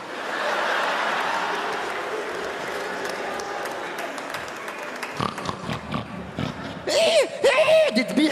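A stand-up comedy audience mimics pig grunts and oinks, a few loud snorting imitations near the end after crowd murmur and laughter in a show hall; voices imitate the sound.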